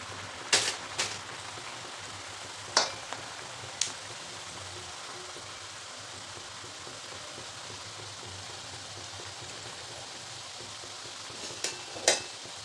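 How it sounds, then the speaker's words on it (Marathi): Spiced rice-flour chakli spirals frying in a pan of hot oil, a soft steady sizzle with occasional sharp clinks and taps, close and alone without talk. "मस्त काटेरी चकल्या अशा तळून घ्यायच्यात आपल्याला"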